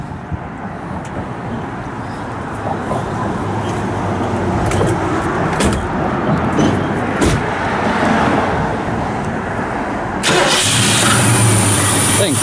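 A 1968 Mercury Cougar's engine cranks and catches, then settles into a steady rumbling idle close by, loud and continuous.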